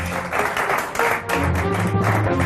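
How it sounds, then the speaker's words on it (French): Steady applause from a studio audience for the winner of a televised quiz game, a dense wash of many hands clapping at a constant level with no talk over it. "Abdourahmane, je vous demande d'applaudir très fort."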